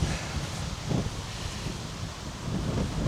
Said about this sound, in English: the wind is doing something then. Almost got blown over there.